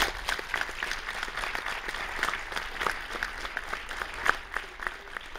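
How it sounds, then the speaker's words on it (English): Audience applause at a student organization meeting honoring members for their work; a steady, moderately distant patter of many hands clapping, with occasional louder individual claps and no talking. "BSU, give them a round of applause."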